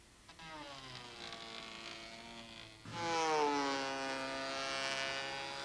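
A Gelplane machine strips gel coat from a boat hull, giving a steady electric motor hum with a whining harmonic tone that rises in pitch and loudness partway through, running alone close by.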